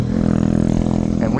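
A YCF 125 pit bike engine runs close by with a steady, throaty low-pitched drone, loud and continuous for a brief moment with no talk.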